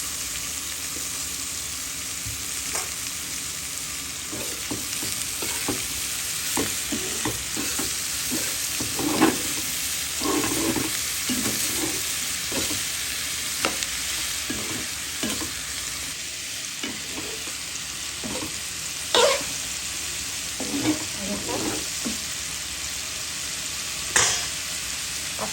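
Papaya, bottle gourd and potato fry in a pan with a steady sizzle, broken by repeated scraping stirs, some sharper clinks of the spatula against the pan, and no talking.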